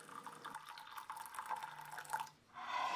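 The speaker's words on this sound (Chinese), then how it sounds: "把开水倒入到速熟燕麦片里边，开水迅速的被燕麦片吸收了" Boiling water pours from a kettle onto quick-cooking oats in a bowl, a soft continuous trickling and splashing that shifts slightly in pitch before briefly tapering off and resuming.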